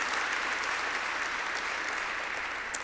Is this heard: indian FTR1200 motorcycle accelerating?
no